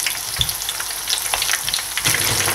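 Dynamite chilli lumpia spring rolls frying and browning in plenty of oil give a loud, continuous crackling sizzle with small pops, heard close and with no talking.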